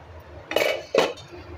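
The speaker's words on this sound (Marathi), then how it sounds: "तर ही कढई ठेवते याच्यावरती" A kadhai wok is set down on a gas stove, making two quick metallic clanks about half a second apart, close and clear over a quiet background.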